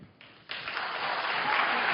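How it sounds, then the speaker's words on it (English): Audience applause at a presidential debate between candidates including Hillary Clinton swells from a few scattered claps into broad, sustained clapping that keeps building. "Can we please hold the applause?"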